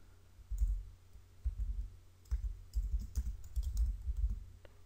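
Quick bursts of key clicks on a computer keyboard as a file name is typed, close and crisp with short pauses between groups of keystrokes.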